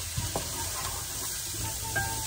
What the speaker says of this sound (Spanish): Que revolvemos bien